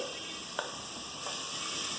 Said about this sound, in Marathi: आपण कांदा घालून कांदा शिजवून घेऊ.